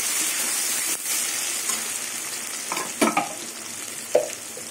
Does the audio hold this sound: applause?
no